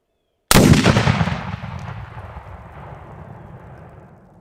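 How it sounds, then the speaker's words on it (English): A single loud gunshot from a firearm fitted with a red dot sight, a sharp close blast followed by a long decaying rumble as it echoes away, with no talk. "So I'm just going to fire one shot, hopefully, if I don't miss."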